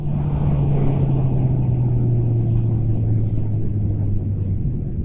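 A 2025 QJMotor SRK 921 RR superbike pulls away in second gear with a steady, close engine drone under heavy wind rumble, holding a sustained tone throughout.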